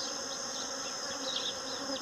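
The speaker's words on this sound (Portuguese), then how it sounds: "A pitangueira está em floração, uma floração grande, e a quantidade de abelhas" Africanized and native bees buzzing around a pitanga tree in heavy bloom on a farm, a dense, steady close-up drone of many insects with no talking.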